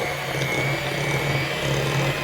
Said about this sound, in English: So I'm just gonna use a hand mixer here, or you could just use your wooden spoon or a whisk.